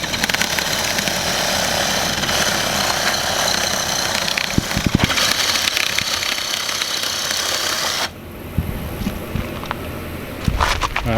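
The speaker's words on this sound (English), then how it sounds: "you're gonna take Sawzall, run down his back" A Sawzall reciprocating saw cuts along the back of an alligator gar while bowfishing, with a loud, steady buzzing drone up close that stops abruptly near the end, leaving quieter handling noises.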